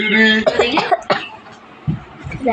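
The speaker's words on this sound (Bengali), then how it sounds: "আমি কাশি" Several short, harsh coughs from a person, the last two arriving near the end as separate bursts, with voices and laughter close by in the room.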